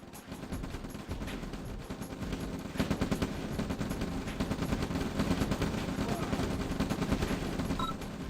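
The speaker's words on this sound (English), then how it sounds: "Not a lot of rockets there, but enough to do the damage" Rockets and weapons fire rapidly in a Red Alert real-time strategy battle, with dense, continuous crackling bursts and explosions that grow louder partway through, under faint commentary.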